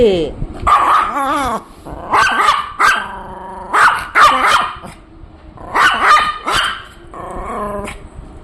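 A dog barks and growls in repeated bursts, close and loud, while a voice talks over the commotion.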